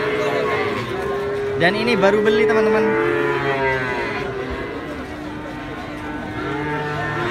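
Cattle low repeatedly in a long, drawn-out series from a truck at an Indonesian livestock market, loud and close, with several overlapping moos over steady crowd noise while people talk nearby.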